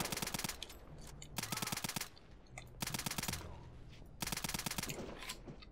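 Bursts of rapid automatic gunfire from a weapon in the shooter game Return to Castle Wolfenstein, four loud sustained volleys separated by short pauses.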